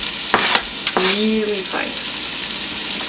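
Finely chopped garlic and softened onions sauté in a hot pan with a steady broadband sizzle, a few sharp clinks of a utensil near the start, and a short spoken phrase over the frying.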